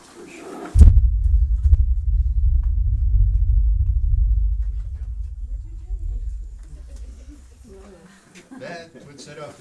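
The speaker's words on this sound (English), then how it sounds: "That would set off the dynamite" A simulated dynamite blast in a coal mine opens with a sharp crack, then a loud, deep rumble that rolls on for several seconds and slowly fades. Voices follow near the end.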